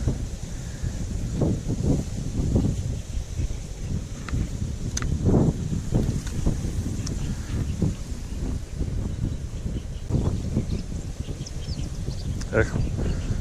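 Strong wind buffets the microphone at a lake shore during fishing, a steady low rumble with gusting bursts and rustling throughout, while a person talks intermittently over it.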